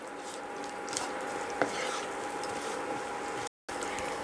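Spices tempering in ghee in a kadai give a steady, close sizzle with faint stirring scrapes and a brief clink partway through, no voices over it.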